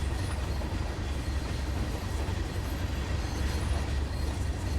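Train wheels screech and rumble in Train Sim World on the Tees Valley Line, a steady low rolling drone with faint high squeals above, continuous and fairly quiet throughout.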